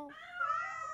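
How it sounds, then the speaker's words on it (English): A cartoon cat meows in a single drawn-out, rising and falling cry lasting about a second, loud and close with no talking over it, from a kids' animated superhero comedy. "Come on, kitty witty."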